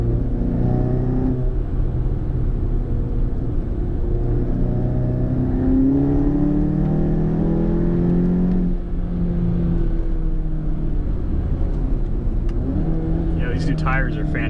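A VW MK7 GTI with a Cobb Stage 3 tune and catless downpipe accelerating, a steady engine drone rising in pitch through several gear pulls from inside the car, with a voice talking over it.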